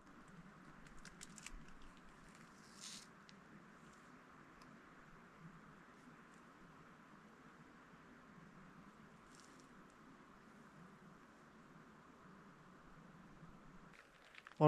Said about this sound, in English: now it's definitely raining